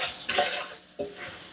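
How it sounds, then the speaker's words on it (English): Flour stirred into two tablespoons of hot fat such as oil, lard, shortening or butter in a pan, a soft sizzle broken by two quick spoon scrapes. "So we're going to stir that around."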